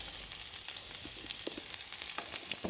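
Chunks of garlic and onion fry in a pan with a steady, fairly quiet sizzle, broken by light crackles and the soft scrape of stirring.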